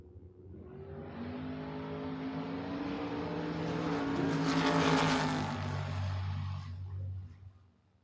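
Drag racing Chevrolet Vega cars, a 1974 wagon and a hatchback, roar off the line together at a door-wars event, a sustained loud engine drone building and rising before easing away.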